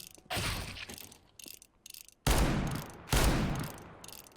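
Three loud revolver shots ring out in a video game, each a sharp burst with a brief decay, after a stretch of quieter mechanical clicking and handling noises.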